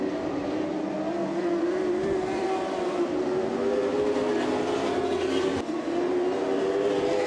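Bay Cities Racing Association Midget Lights sprint race cars circle a track on the final lap, a steady loud drone of several engines whose pitch rises and falls slightly as they pass, continuous throughout with no talk.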